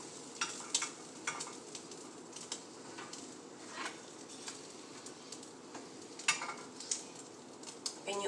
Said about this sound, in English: you can hear the sizzle on there